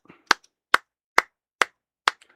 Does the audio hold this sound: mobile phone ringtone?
no